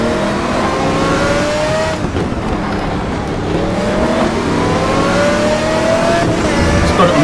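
Race car engine in the GTR Evo racing game screaming up through the revs continuously, loud and close, with pitch sweeping upward as it accelerates through gears during a lap.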